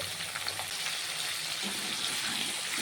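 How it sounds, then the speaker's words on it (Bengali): Potato pieces fry in hot oil with turmeric after fish was fried in the same oil, giving a steady close sizzle and crackle with faint stirring throughout. "এই তেলেই আমি আলুটাকে ভেজে নেব"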